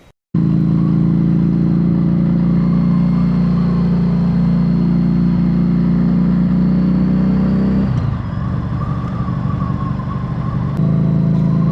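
A Harley-Davidson Street XG500 motorcycle rides along an Australian highway. The engine drones loud and close, holding a steady mid-pitched rumble with wind rush. There is a shift in tone partway through, and then it settles back into the cruising drone.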